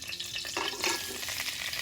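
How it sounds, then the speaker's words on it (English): Andouille sausage sizzles and crackles steadily in a hot pot, a close, bright frying hiss with soft stirring scrapes. "Hear that sizzle? Yeah, baby, that's what you want."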